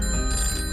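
A telephone rings with a bright, continuous electronic trill, loud and close over a low background hum, lasting only a brief moment without any voices.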